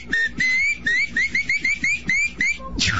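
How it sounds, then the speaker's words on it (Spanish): A person whistles a quick run of short rising chirps, about a dozen bright pitched notes in rapid succession, close and loud, ending in a breathy rush. "lo que en otras partes de Latinoamérica lo conocen como chiflar, que es el arte de silbar de esta manera"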